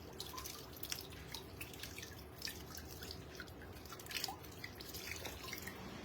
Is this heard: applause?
no